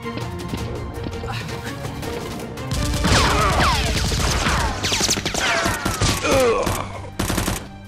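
Nerf guns firing during a Nerf war: rapid bursts of sharp clicking shots, loud and dense for several seconds, with scattered shouting voices.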